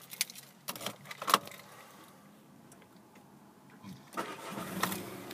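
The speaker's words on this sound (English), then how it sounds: "And just getting the car started up." A grey Volkswagen Golf GT TDI with a manual gearbox and diesel engine is started: keys and cabin clicks come first, then the diesel cranks and catches into a steady idle, recorded close by with no speech.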